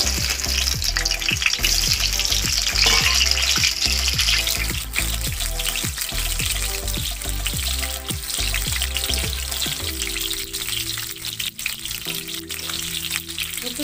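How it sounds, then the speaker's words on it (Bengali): Potatoes frying in a pan for an egg curry, a loud, constant sizzle with repeated scraping and knocking of the spatula, easing into a smoother hiss toward the end. "আলুগুলো ভেজে নিব"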